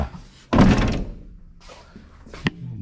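A car door on a wrecked car left sitting for 20 years is shut with one solid, close thunk, followed by quieter rattles and a sharp click, with no talking.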